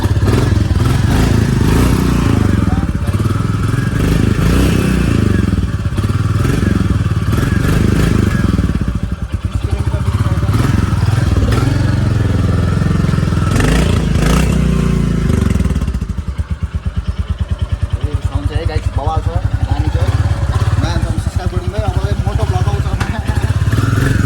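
A new motorcycle idles and runs in neutral, its loud, close engine rumbling with some clatter throughout, mixed with people talking over it.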